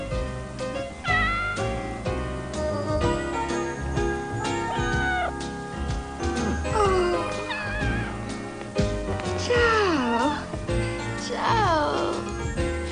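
A cat meows repeatedly with rising and falling wails over background music in a film scene, several drawn-out cries spread across the passage.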